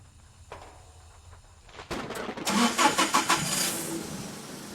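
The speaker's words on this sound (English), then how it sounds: "The forklift's been on the fritz recently. You might have to hotwire it to get it out of the way." Hotwired forklift engine in a video game coughing and catching, a few rough sputtering bursts rising into a running idle after a quiet start with faint background hum.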